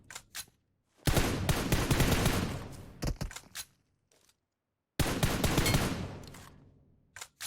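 Bursts of automatic gunfire in the mobile battle royale game PUBG Mobile on the Livik map, two long rapid fusillades with a few scattered single shots between, fairly quiet and without voices.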